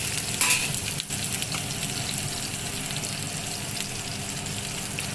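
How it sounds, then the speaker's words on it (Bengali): Arum lobe (kochur loti) frying in a pan gives a loud, steady sizzle up close, with stirring scrapes and a few sharp clatters early on. "তো এটাকে একটু ফ্রাই মতো করতে হবে।"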